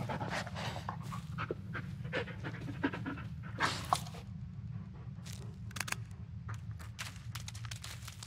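A dog pants in the video game Blair Witch, rapid breathy huffs continuing steadily throughout, close and moderately loud over a low rumbling ambience, with occasional soft clicks and no talking.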